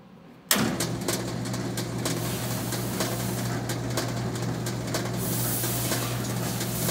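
A Carter Day sizer tester runs a grain sample, starting abruptly with a sharp onset and then settling into a steady mechanical hum and hiss, with faint intermittent rattling throughout.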